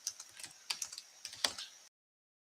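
Fingers type on a computer keyboard in a short, uneven burst of close, crisp key clicks that stops abruptly after about two seconds.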